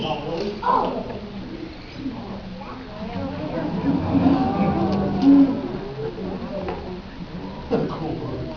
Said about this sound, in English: It's a great horned owl.